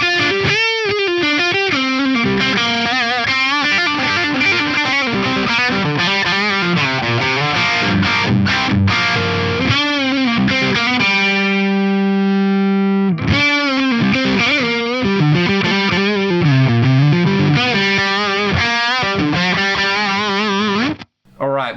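Electric guitar on the neck pickup through a Synergy 800-style amp module plays saturated, distorted riffs and sustained chords with a held ringing note midway, loud and continuous.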